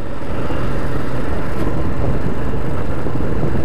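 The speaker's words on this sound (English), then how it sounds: "the engine emitting too much of a knocking sound" A motorcycle engine with a knocking fault runs steadily at close range, a loud continuous mechanical drone with no one talking.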